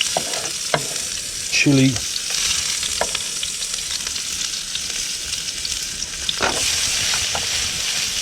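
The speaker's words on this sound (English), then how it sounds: "Got this big pan right here. So I'm just gonna slowly saute all this." Chili and garlic sautéing in a big pan, a steady close sizzle and hiss of frying with occasional stirring scrapes, a brief word spoken partway through.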